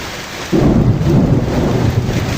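A deep rumble of thunder rolls in suddenly and sustains over a steady hiss of heavy rain in a storm.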